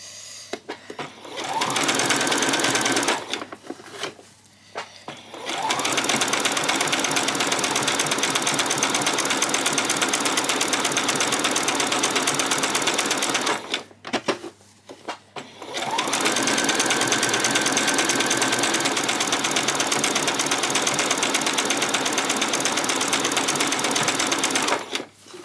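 A sewing machine runs a back stitch, whirring steadily in two long bursts separated by short pauses, with a brief stop-start at the beginning and close, continuous mechanical buzzing.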